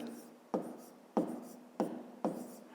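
A pen strokes out numbers on paper while a math exercise is worked through, four short scratchy taps spaced about half a second apart, quiet and close with nobody talking.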